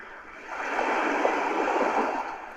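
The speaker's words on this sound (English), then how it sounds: "Now these are waves." Ocean-wave sound from a MOICO white noise machine: a soft wash of hissing surf that swells and holds steady for a couple of seconds, close and even.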